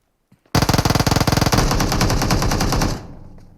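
Rapid automatic gunfire from the mobile battle-royale game PUBG Mobile, a loud close burst of fast shots that merges into a sustained roar before cutting off, with no speech.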